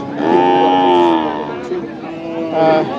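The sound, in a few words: Sahiwal calves mooing at a cattle market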